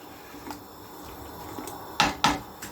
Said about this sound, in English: Once we open the lid